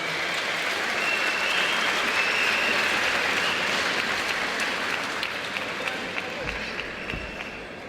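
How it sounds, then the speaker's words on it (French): Boxing crowd at a fight night in Valence applauds the two fighters after the bout, a loud, dense roar of clapping and cheering that holds steady for eight seconds before easing slightly near the end. "Faudrait qu'on applaudisse bien fort."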